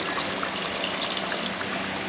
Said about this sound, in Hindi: आधा कप पानी डालेंगे इसमें।